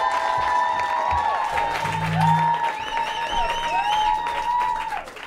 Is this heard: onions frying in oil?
no